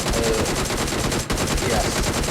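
Rapid bursts of gunfire in the video game BGMI crack continuously as shots break ice, dense and loud, with a brief pause midway before the shooting resumes.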